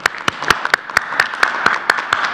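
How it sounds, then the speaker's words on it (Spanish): A small group claps briskly and unevenly at a Mexican Health Secretariat COVID-19 press conference, a short burst of applause close by. "Vamos a darle un aplauso."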